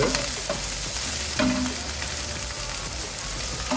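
Spring onion stalks sauté in a hot pan with a loud, steady sizzle, broken by occasional sharp pops and stirring clicks as the Sri Lankan sambal rotti filling cooks.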